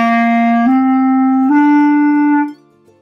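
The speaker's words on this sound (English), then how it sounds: "Now I will play a few songs for you so you can really hear what a clarinet sounds like." A clarinet plays a few sustained notes that step upward in pitch, clear and close with a reedy tone, before stopping and leaving a short silence.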